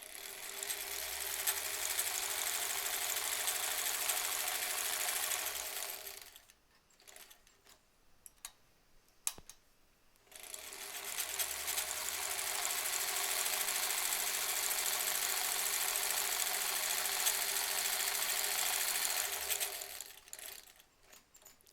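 A sewing machine stitches face masks in two long, even bursts of fast rhythmic whirring and ticking, close by, with a quiet pause between runs and faint clicks as the fabric is handled.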